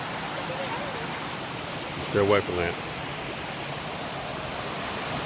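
Steady broadband rush of water at McGalliard Falls, a waterfall in a park, filling the whole clip at an even level while someone briefly speaks over it.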